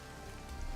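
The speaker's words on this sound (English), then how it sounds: "it starts to rain and be obnoxious" Soft rain patters on surfaces in the open world of Horizon Zero Dawn, a faint, even wash of drops with no voices.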